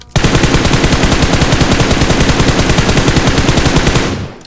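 Rapid sustained machine-gun fire in a video game, one loud, continuous burst of evenly spaced shots lasting several seconds before trailing off.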